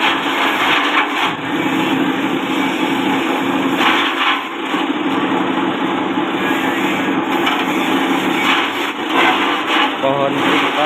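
A simple, low-cost grass chopper machine for cutting cassava stalks and elephant grass runs steadily under test, giving a loud continuous mechanical whir with fluctuating load, while a person talks over it.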